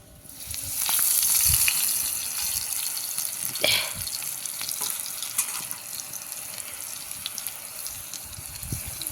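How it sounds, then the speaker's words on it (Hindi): Steady crackling sizzle of chilies and chopped green garlic leaves frying in hot oil, with a sharper burst of spattering partway through and faint clinks of stirring. "अब हम मिर्च और साथ में हरे कटे हुए लहसुन के पत्तों का तड़का लगाने वाले हैं"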